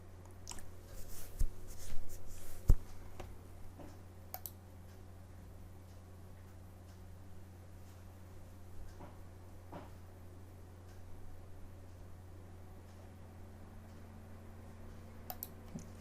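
Quiet computer keyboard typing of an email address, a cluster of light key clicks early on followed by sparse isolated taps over a low steady hum.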